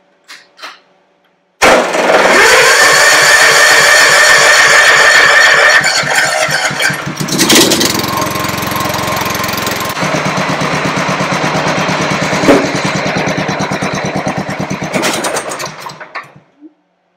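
A Mountfield 1538M-SD ride-on mower engine cranks briefly, then catches and runs steadily at a loud, close idle with a shift in pitch partway through, before cutting off near the end.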